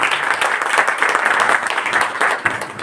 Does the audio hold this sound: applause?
yes